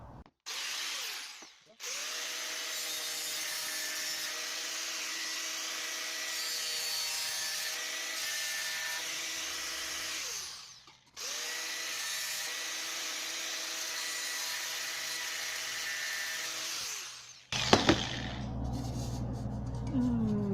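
An angle grinder rounds off a metal edge while building a rocket stove, running loud and steady in two long passes with a short pause between them, then a clattering handling noise at the end.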